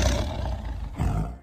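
A tiger lets out a roar, a deep rough growling blast that fills the short moment, dips briefly, then surges again before cutting off.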